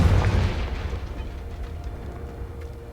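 Explosion spells go off in a Hogwarts video game, with a heavy, booming blast up front that rumbles and fades over a few seconds.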